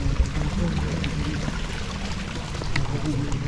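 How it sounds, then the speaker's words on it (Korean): Flowing water of a stream on an autumn walk among falling leaves in Yongin, a steady broadband rush under the scene with faint voices present. "물소리도 들리고"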